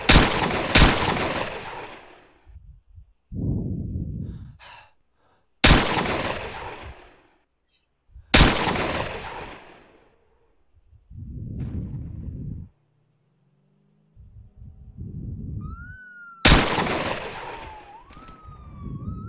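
Bursts of automatic gunfire aimed at police in a video game, several loud rapid volleys separated by pauses, mixed with game explosions and a rising and falling police siren late in the sequence.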